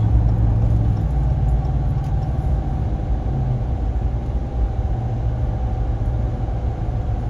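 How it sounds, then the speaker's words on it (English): Steady low rumble of a car coasting at speed, dominated by road and tire noise with a faint engine hum beneath from a Flowmaster Signature Series exhaust. "I can hear the tires more than the exhaust."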